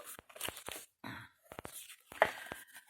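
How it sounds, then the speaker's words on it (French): Paper or cardboard for a box holding Action ink bottles is creased into folds, giving soft, brief crinkling and scraping bursts separated by quiet gaps, close and fairly faint. "Vous marquez les plis."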